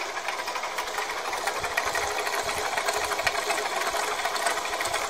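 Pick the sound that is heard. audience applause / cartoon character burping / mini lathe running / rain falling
mini lathe running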